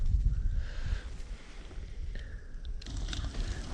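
Gusty wind buffets the microphone with low rumbling whooshes rising and falling, with faint outdoor background noise and no voices.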